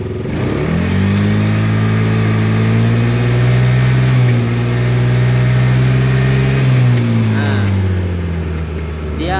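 A carbureted Yamaha Xeon scooter engine revs up close, climbing to a sustained high drone, holding, then dropping back toward idle, loud and continuous with a faint voice under it.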